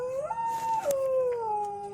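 Dogs howling on a farm at night, a long rising and falling howl held near and loud throughout, with a second quieter howl layered beneath it.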